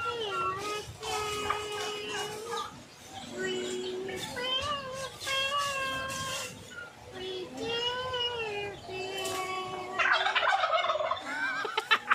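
A turkey gobbles repeatedly in loud, warbling bursts with brief pauses, close by, with some background noise and no talk.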